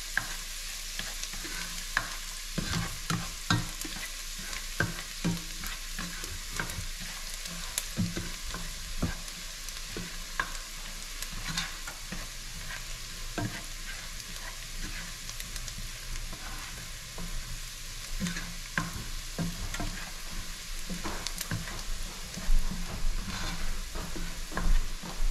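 Garlic frying in a pan, a steady low sizzle with scattered clinks and stirring scrapes throughout, fairly quiet and with no one talking.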